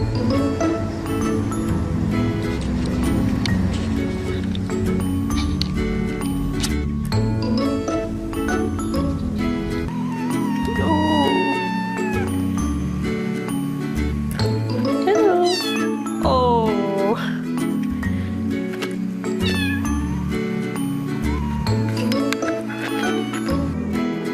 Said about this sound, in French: Tout de suite on regarde nos amis les chatons.